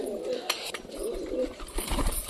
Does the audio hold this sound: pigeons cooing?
yes